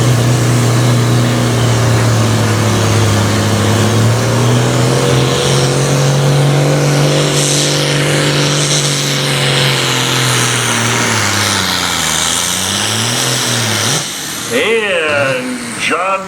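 A 1973 International 1066 tractor engine roars loud and sustained during a tractor pull, pitch holding then dipping as it bogs down and fades, with an announcer talking over it.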